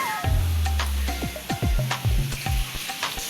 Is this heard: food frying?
yes